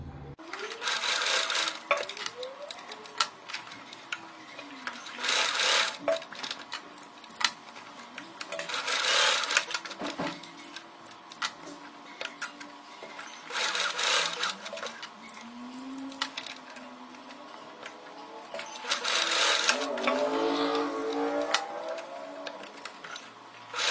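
Domestic sewing machine running zigzag stitches at varying lengths and widths: repeated bursts of rapid mechanical whirring and clatter, each lasting a second or two, separated by short pauses, close and fairly loud.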